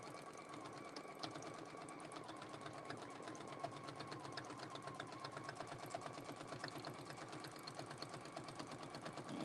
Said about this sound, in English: So I'm just going to stitch all the way around.